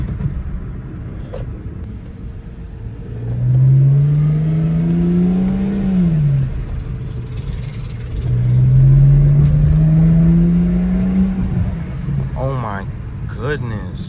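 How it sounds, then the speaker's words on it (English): A car at a supercar meet in West Palm Beach revs twice, each rise a loud sustained climb in engine pitch that drops back, with crowd chatter and voices around it. "Let's get a rev for y'all boys."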